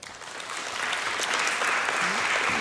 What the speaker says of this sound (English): A round of applause for Mr. Ntando Pewa